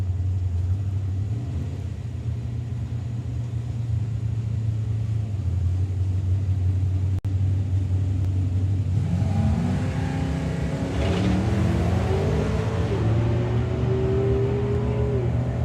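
A drag racing car launches and accelerates hard down the strip at a Festival of Power meet, a loud steady engine rumble building into a rising, revving roar about halfway through.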